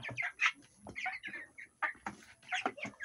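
Twenty-day-old broiler chickens cluck and chirp in quick, scattered bursts, close by and fairly soft, with no talk over them.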